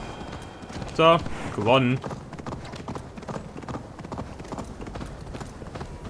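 A horse gallops in the video game Assassin's Creed Valhalla, with a steady, rhythmic clip-clop of hooves running throughout. Someone briefly speaks over the hoofbeats early on.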